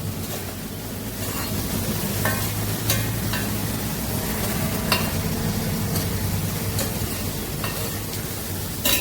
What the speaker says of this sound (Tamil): இங்கே நான் 2 பேக்கெட் வேறு மஷ்ரூமு. வறுத்துக்கலாம்.